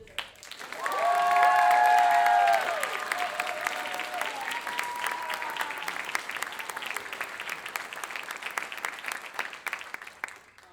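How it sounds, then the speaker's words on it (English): An audience at a 2025 stage production of The Crucible breaks into a full round of applause, loud and dense at first, then thinning into scattered sustained clapping. "I think if I can ask you all to give her a round of applause"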